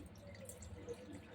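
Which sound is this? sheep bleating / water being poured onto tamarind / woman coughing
water being poured onto tamarind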